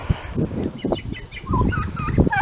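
Turkeys gobble repeatedly at close range, rapid warbling calls overlapping one another against a busy background of other birds and barnyard noise.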